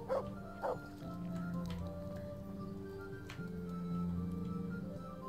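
A dog in Kingdom Come: Deliverance gives two quick short barks, followed by a few fainter yips over a low steady ambient hum.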